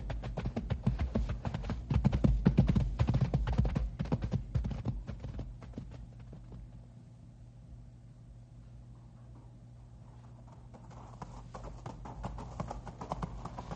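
Horses walking on a rocky, loose-stone trail in a radio drama, with a rapid clatter of hooves that is loud at first, fades to near silence midway, then slowly returns.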